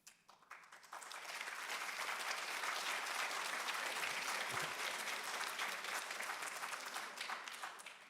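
Audience applause breaks out partway through a political speech in Tel Aviv by Rahm Emanuel on the US-Israel alliance, a dense wash of many hands clapping that swells after the first second and holds steady, loud and continuous, with no talk over it.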